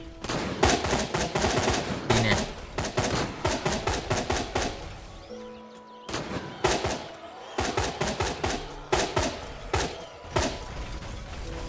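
Gunfire in the video game Fear the Night, rapid bursts of shots in quick clusters, loud and close, with brief pauses between volleys and mechanical clicks.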